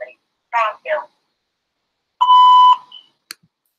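A law office voicemail greeting closes with a few spoken words. After a short silence, a single clean electronic tone sounds for about half a second, followed by a faint click.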